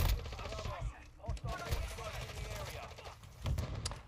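Gunfire in a video game shootout with an SMG in play, irregular bursts and single cracks spread over the clip, low in level and mixed with a person talking.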